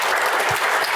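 Audience applause fills a formal event honoring the extended family of Indonesia's Attorney General's Office, a dense steady burst of many hands clapping in a hall for about a second.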